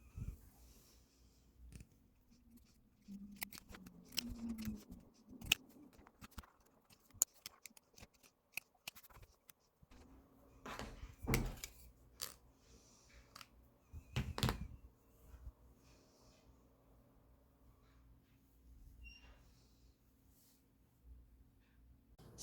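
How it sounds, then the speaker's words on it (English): Pinking shears trim close along a fabric seam of a sewing-pattern pajama top, giving quiet, irregular crisp snips and clicks spread across the stretch, close and fairly faint, with no talking. "I'm using my pinking shears for this one. And I'll just trim my seam very close like this."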